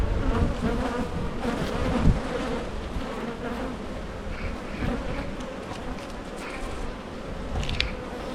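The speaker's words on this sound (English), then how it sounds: "Oh, there's another wasp." Wasps buzzing close around an apiary beehive during an inspection, a dense, persistent droning hum with louder passes as insects fly near, continuous throughout.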